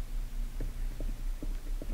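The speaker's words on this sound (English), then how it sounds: "So when I press the switch, you can hear the fluorescent light." A fluorescent light in a video game gives a steady low electrical hum with a faint, rhythmic throb, heard alone and close.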